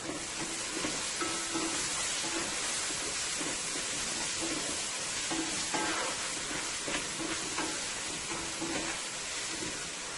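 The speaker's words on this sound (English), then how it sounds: "It's frying up nicely there." Chicken liver and gizzard fry in a pan with black pepper and vegetable bouillon, giving a steady close sizzle with occasional stirring scrapes and taps throughout.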